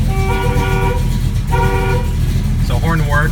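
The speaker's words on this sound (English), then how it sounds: "Horn works." A 1974 AMC AMX Javelin's horn sounds twice in firm, roughly half-second blasts, its steady tone laid over the car's idling engine rumble, followed by a short burst of talking.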